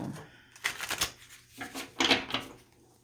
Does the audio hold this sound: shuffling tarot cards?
yes